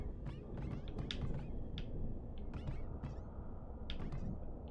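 A cat in the Shadows Over Loathing video game meows repeatedly in short, scattered bursts over a dense, steady background of game ambience.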